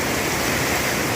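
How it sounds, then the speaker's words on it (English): A stream runs beside a campsite on the Appalachian Trail, giving a dense, even rush of flowing water. It is steady and moderately close, with no voices. "So we get to hear the water all night long,"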